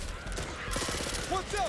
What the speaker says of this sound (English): I'm out here shooting my gun, doing my thing, shooting stuff